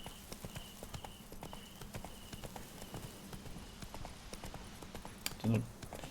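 Hoofbeats of Roach, a horse in The Witcher 3 video game, clip-clop in a steady galloping rhythm throughout, fairly close and moderately loud, with a brief louder thump near the end and a voice talking over it.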